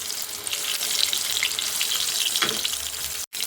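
Chicken pieces frying in a pan over low heat, a continuous bright crackling sizzle at steady volume, broken by one very short silent gap near the end.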